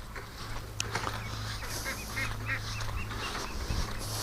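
Muscovy ducks calling outdoors in a flock kept for raising ducklings, repeated honking, hissing calls over a steady low background hum, no talk.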